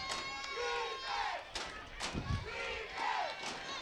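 A crowd at a youth Pop Warner football game shouts and cheers in rising waves, heard from a distance, with a dull thump partway through.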